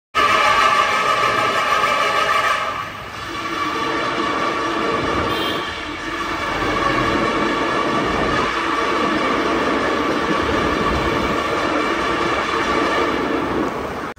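Trucks and cars pass through a long road tunnel on a Ladakh motorcycle ride, making a loud, continuous echoing roar that swells and dips slightly as vehicles pass.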